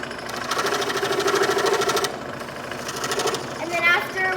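A scroll saw cuts a wooden play button with a fast, steady, rhythmic buzzing that runs in bursts close by and rises and falls as the cut continues.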